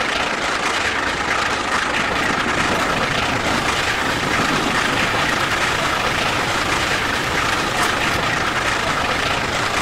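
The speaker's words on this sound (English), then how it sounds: "at this speed, the steam engine drinks water and chews up all the coal." A Class A4 steam locomotive runs at speed on a London to Brighton record attempt, producing a loud, steady, dense mechanical roar throughout with no voices.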